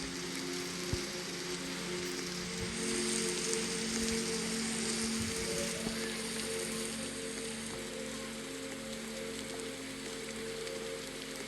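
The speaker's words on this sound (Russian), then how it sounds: "Как раз дождь идет." Rain in the video game 99 Nights in the Forest, a steady soft hiss of falling drops with a faint low hum underneath, quiet and continuous.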